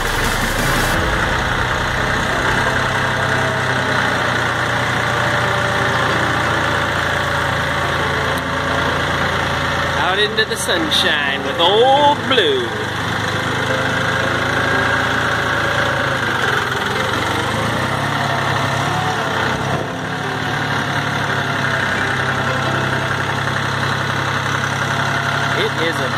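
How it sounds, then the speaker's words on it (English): A Ford tractor engine idles and runs steadily as it drives out of a shop into the sunshine, a close, continuous mid-pitched rumble with a few brief clanks partway through, while someone speaks briefly over it. "driving the tractor out of the shop"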